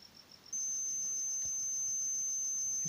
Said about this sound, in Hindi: देखिए कंटिन्यूटी आ रही है, बजर को सुनाई दे रही होगी।